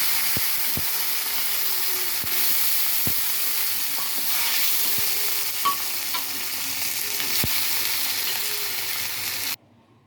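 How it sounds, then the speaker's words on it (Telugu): Red chickpeas fry in a tempering, giving a steady, close sizzle and hiss that runs unbroken with occasional sharp clicks and pops, then cuts off abruptly at the end. "తాలింపు శనగలు వేసుకుందాం."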